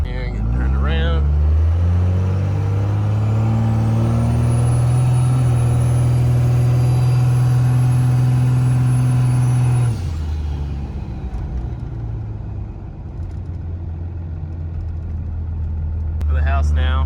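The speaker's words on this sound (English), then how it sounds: "So we had to go get the old black truck, and we're gonna go pull Mason back to the house now." An old black truck idles and drives, towing another vehicle, its deep steady engine drone close and loud, holding a sustained tone and then dropping to a rougher rumble, with a voice speaking over it at the start and end.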